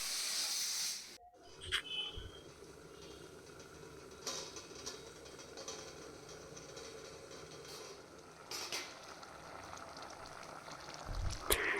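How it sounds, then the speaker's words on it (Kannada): A pot of sambar with drumsticks cooking on the stove gives a steady, soft bubbling hiss that carries on evenly throughout, close by, with a few faint knocks and clatters in the kitchen. "ನೋಡಿ ಇವಾಗ ನುಗ್ಗೆಕಾಯಿ ಬೇಯ್ತಾ ಇದೆ."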